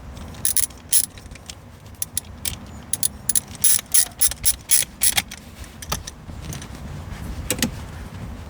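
Screws are driven back in on the shift boot of a 2022-23 Subaru WRX, giving bursts of close ratcheting clicks with short pauses between them over a quiet background hiss.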